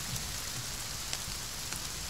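Steady rain patters on the ground and surfaces in a wet outdoor scene, a dense even hiss with a few sharper drops landing close by, continuous with no voices.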